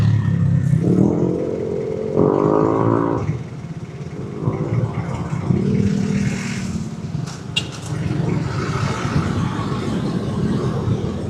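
A motorcycle rides through heavy city traffic, its engine a steady, loud rumble with rising revs and surrounding vehicle clatter throughout, and no talking.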